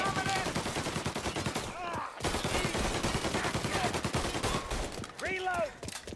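Rapid, dense gunfire in Mafia Definitive Edition, with continuous bursts of shots close and loud and a brief pause midway, with voices mixed in under the shooting.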